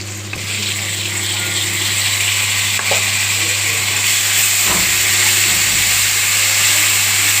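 Onions and gongura leaves fry in a pan, a bright continuous sizzle over a low steady hum, with a few scraping stirs in between.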